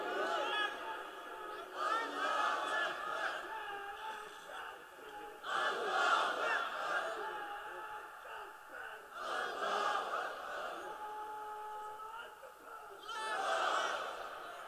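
Crowd at a Bangla religious gathering (mahfil) shouting takbir in repeated bursts, several loud collective call-and-response swells spaced a few seconds apart, with chanting voices in between.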